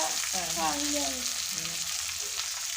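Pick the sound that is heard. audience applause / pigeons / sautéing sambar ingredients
sautéing sambar ingredients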